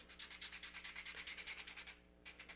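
Very fine sandpaper rubbed against a charcoal blending stump, about a dozen quick rhythmic scrapes in steady strokes, close and soft, with a brief pause before one more stroke.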